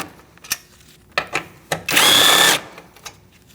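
A 10mm socket working bolts loose on a 2008-2014 Mercedes-Benz C300 during cooling fan assembly replacement: several sharp metallic clicks and knocks, then a loud half-second burst of tool whirring, close up with no talking.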